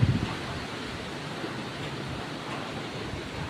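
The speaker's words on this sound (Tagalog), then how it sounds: "Itong hangin lang." Steady, broadband rushing of wind gusting outdoors past houses during a storm, constant and fairly loud throughout with no voices.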